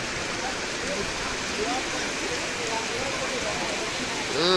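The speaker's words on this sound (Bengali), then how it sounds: "প্রচুর বৃষ্টি প্রচুর বৃষ্টি" Heavy midday rain falling steadily in Bankura, a dense, close, continuous wash of noise with a few faint voices underneath throughout.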